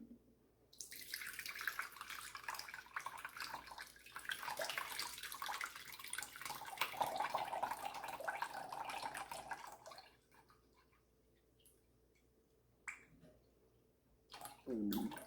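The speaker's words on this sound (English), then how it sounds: "all I'm going to do is just gently pour some of this buttermilk in there" Buttermilk pours steadily from churned butter for several seconds with a gurgling splash, then tapers off into a few drips and small clinks.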